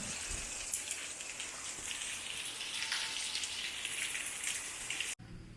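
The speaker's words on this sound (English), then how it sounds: "So it's raining again." Steady rain patters on surfaces at a building site in the Philippines, a dense hiss of drops continuing evenly before cutting off abruptly near the end.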